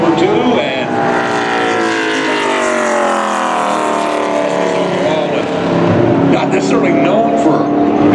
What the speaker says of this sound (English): Here he comes out of turn 4. Eddie MacDonald heads to the stripe. Aboard that Grim Construction Chevrolet, he's completed lap number 2